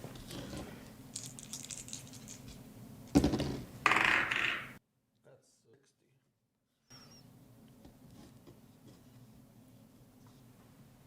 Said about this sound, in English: We're going to roll some dice.